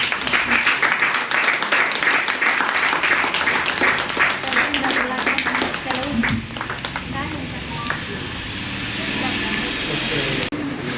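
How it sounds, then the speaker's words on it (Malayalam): An audience at an Onam celebration applauds with dense, sustained clapping that thins out after about six seconds, leaving a quieter room murmur with some talk in the background. "ക്ലാപ്പ് ചെയ്യണേ എല്ലാവരും."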